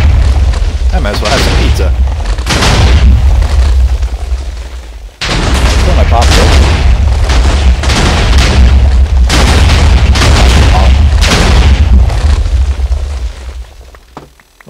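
Loud, repeated booming explosions in a Minecraft Dwarfs vs Zombies game, rolling blasts in several bursts with a voice talking over them.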